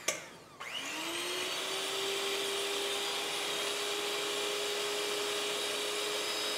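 An electric hand mixer whirs into action in a bowl of egg whites with a pinch of sugar for a coffee chiffon cake, spinning up quickly after a clatter and then holding a loud, steady motor whine alone.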